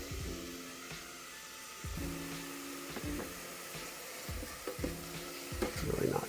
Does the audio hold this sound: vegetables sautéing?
yes